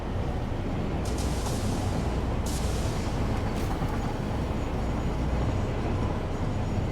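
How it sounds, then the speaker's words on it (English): A loud, continuous roar of a train running along the rails in a video game, with a few brief hissing bursts in the first half and no voices. "Well, we're gonna end up punting that train off the track, I can tell you that much."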